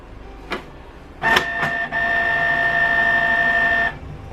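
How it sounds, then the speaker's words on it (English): A Canon G3060 inkjet printer powers on with a few sharp mechanical clicks and clunks, then a steady whirring motor hum that holds for about two seconds before stopping, loud and close. "click the power button to turn on the printer."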